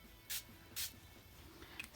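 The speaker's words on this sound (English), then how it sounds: "I'm going to spray over it" Two short, hissy spritzes from a spray bottle over a journal page, with the second a bit longer, then a faint third puff, all quiet and close.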